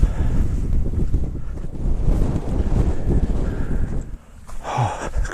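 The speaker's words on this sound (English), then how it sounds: "I think you're definitely going to have to bear with some wind noise up here." Strong wind buffets the microphone on an exposed Dartmoor hilltop near Yes Tor and High Willhays, a loud, rumbling roar that gusts continuously before briefly easing near the end.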